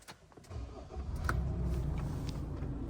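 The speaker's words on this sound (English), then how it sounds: "I'll just start the vehicle up." A Nissan Navara 2.3 with an automatic gearbox starts up, a short starter crank giving way to a steady low idle rumble heard from inside the cab, with no talk.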